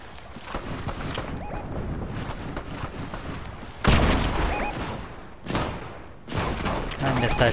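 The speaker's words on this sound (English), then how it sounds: "I missed that shotgun shot" Sharp, loud shotgun blasts from Fortnite on PS4 punch through game ambience and wind-like noise, a handful of separate bursts spaced a second or so apart, with a player talking over them.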